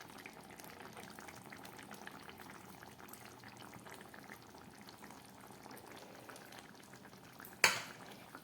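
A vegetable and paneer curry boils in a pot, a faint steady bubbling throughout, ended by a sudden sharp metallic clank near the end.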